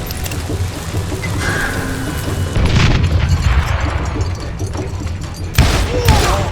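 Gunfire in the Western shooter Call of Juarez: Gunslinger, loud rumbling bursts and booms running through the stretch with a sharper volley near the end, over a dense game soundscape.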